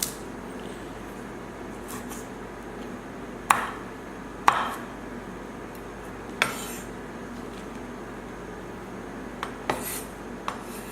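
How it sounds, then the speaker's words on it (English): Collard greens are rough chopped with a knife on a board: sparse, sharp knocks and clacks land irregularly over several seconds, a few louder hits standing out against a quiet kitchen background without talk. "this is rough chop, so that's what we're doing"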